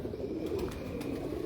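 Pigeons cooing softly at a steady low murmur, several birds close by, with no voices present.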